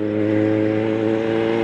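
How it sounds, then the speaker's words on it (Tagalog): Motorcycles and other motor traffic pass along a bridge in Barangay Cabug, Bacolod City, giving a steady, loud engine drone with a sustained hum that holds without a break. "magpanonood ng mga motor na dumadaan dito sa may tulay"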